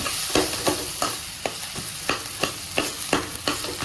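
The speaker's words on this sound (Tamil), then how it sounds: "உருளைக்கிழங்க போட்டுக்கலாம் போட்டு நல்லா கலரி விடுங்க" Mashed potato being stirred into a spiced bonda masala mix in a pan, a steady run of about a dozen soft scraping strokes with a faint sizzle behind them and no talking.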